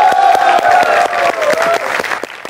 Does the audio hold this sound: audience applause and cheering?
yes